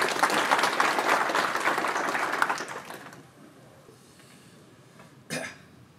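An audience claps to welcome the World Uyghur Congress president onto the stage at an evening event, a full burst that fades out after about three seconds, followed by quiet and a single cough.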